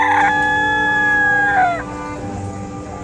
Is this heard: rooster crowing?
yes